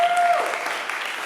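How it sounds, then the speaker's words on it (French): Applause from an audience at a French-language Christian gathering, a brief steady burst of clapping that fills the room, with a faint tone over its opening. "Est-ce qu'on peut applaudir très très fort?"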